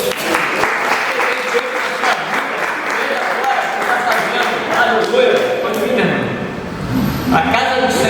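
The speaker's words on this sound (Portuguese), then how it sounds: "aplaudir o nome do Senhor" A congregation at a Sunday evening church service claps steadily and loudly, the applause holding throughout with voices mixed in.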